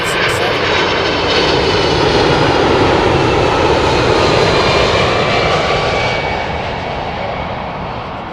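A United Airlines Boeing 767 jet in Star Alliance livery passes at London Heathrow, its engines a loud, broad, continuous roar that stays steady and then fades slightly toward the end.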